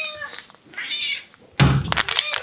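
Pet cat meowing at dinnertime in a home kitchen, a few close plaintive meows followed by a sudden loud clatter and rustling, likely food being prepared.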